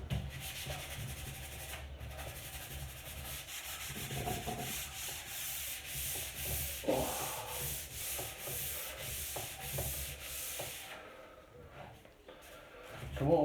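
A wooden dining table is sanded by hand with steady, rhythmic rubbing strokes, close and continuous, with a few brief pauses between passes.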